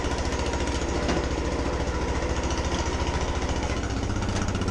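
A Craftsman lawn mower with a broken connecting rod runs close by, its engine chugging loud and steady with a rapid, rough pulse throughout and no talk.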